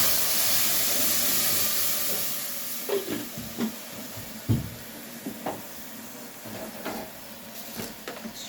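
Tomato sauce poured into hot oil over fried onions hisses loudly at first, then the sizzle steadily fades to a softer simmer broken by scattered clinks and pops.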